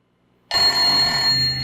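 An old rotary dial phone inside a metal box rings steadily, starting sharply after a brief near-silence and continuing close and loud.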